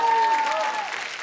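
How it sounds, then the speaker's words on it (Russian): Audience applause for a comedian at a celebrity roast, a steady wash of clapping from a crowd over about a second, loud and continuous with a faint tone at the start. "Давайте похлопаем Пете"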